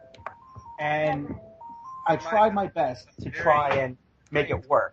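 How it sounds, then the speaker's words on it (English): A house phone's ringtone plays a short, stepped electronic melody at the start, then a person talks over the tail of the tune. "That was my phone. You guys can forgive that one."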